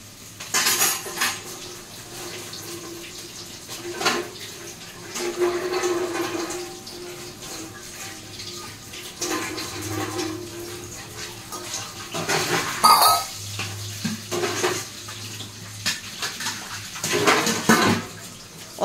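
Dishes, pots and a kadai are washed under running tap water, with steady water flow, clinking cutlery and knocks of metal pans throughout, close by and with no talking.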